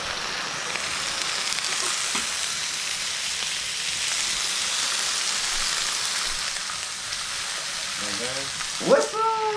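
Chicken wings sizzle loudly on a covered grill in a steady, close, rain-like crackle, with a brief sharp squeak near the end.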